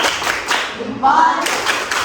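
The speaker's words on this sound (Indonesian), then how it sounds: "Kita tepuk salut dulu anak-anak. Silakan tepuk salut." Schoolchildren in a classroom perform a rhythmic 'tepuk salut' clapping routine, a sustained patter of many small hands broken by short pauses, with a voice rising briefly over the claps.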